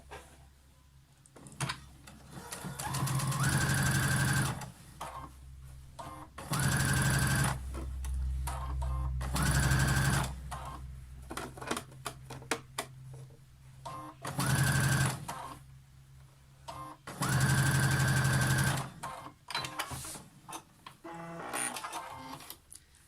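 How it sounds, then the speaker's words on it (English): A sewing machine stitches down the folded edge of a lined fabric face mask in several separate bursts of fast mechanical whirring, divided by short pauses with small clicks and handling sounds. "I'm just going to come down on the left hand side, and that'll just keep that folded edge down"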